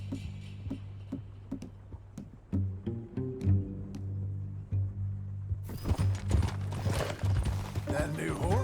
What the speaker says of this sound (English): Let's ride.